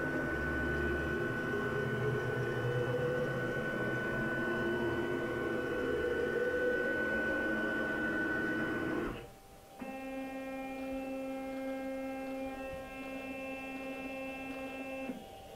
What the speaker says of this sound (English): I'm just going to jog the machine over to there to zero the cutter to that point